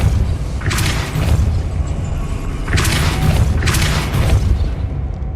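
Spell casts in Hogwarts Legacy, each a sudden whooshing burst with a low rumbling boom, three of them spaced over a few seconds above a steady, loud game ambience, with no talk.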